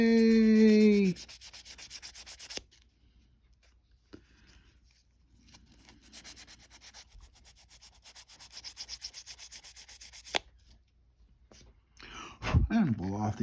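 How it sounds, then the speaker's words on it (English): Sanding a trimmed tab on a 1969 Dodge Coronet Super Bee A-12 scale model kit, soft scratchy rubbing strokes close up with pauses between passes, a few brief clicks and faint breaths around it. "we're going to sand it all down"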